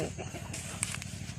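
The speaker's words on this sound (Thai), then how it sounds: "นี่เล่าไก่ของลุงมน" Chickens on a rural Thai farm cluck in short, soft, repeated bursts close by, with faint background ambience and no clear talk.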